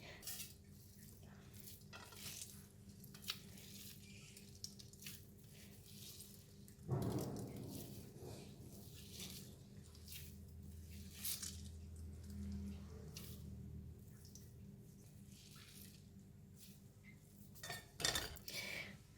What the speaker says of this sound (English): I'm going to go ahead and squeeze out the water from this tapioca